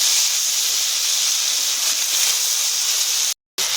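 Steady, loud sizzle of potatoes, tomatoes, peas, chillies and salt frying in oil in a pan for a ribbonfish curry, a continuous hiss running alone without pause until a brief cut near the end.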